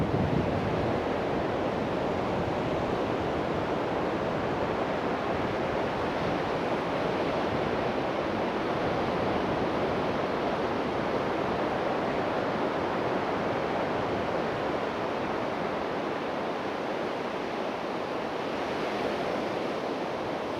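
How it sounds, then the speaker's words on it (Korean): Ocean surf breaks continuously on a shore in Taean, a dense, loud, even roar of waves with wind mixed in and no voices. "여기 파도 소리 들리잖아요."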